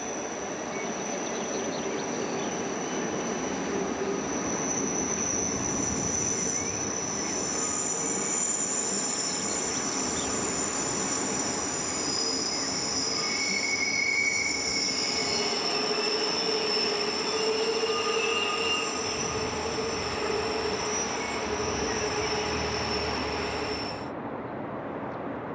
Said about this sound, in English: The train turns through about 360 degrees on open track.